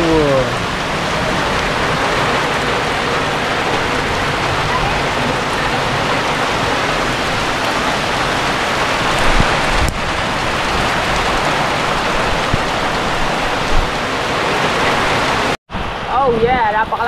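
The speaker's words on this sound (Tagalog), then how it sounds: "napakalakas ng ulan dito sa amin sa Pilipinas" Heavy rain pours in the Philippines in a steady, loud broadband roar that lasts throughout, with a brief cutoff near the end; a voice is heard faintly under the downpour.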